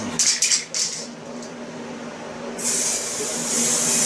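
A spray can of clear coat hisses in short bursts, sputtering unevenly, then a longer continuous spray onto a car part, close by and fairly loud against a quiet background.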